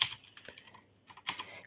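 Keys clatter on a computer keyboard as a Python command is typed into a terminal, two quick bursts of close clicks with a short pause between them.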